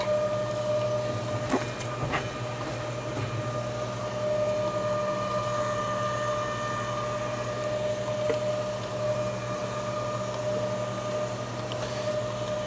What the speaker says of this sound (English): I'm gonna go right into my roller here. I'm just gonna kinda start to feed it through.